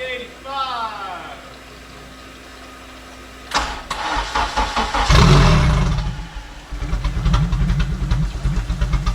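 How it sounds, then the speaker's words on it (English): A K-swapped MR-2 Spyder with a turbo kit starting for the first time on E85: a starter whine, then the engine catches with a loud burst and settles into a rough, lumpy idle close by. "First fire up with the turbo on"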